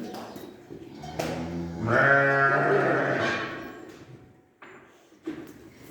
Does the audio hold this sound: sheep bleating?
yes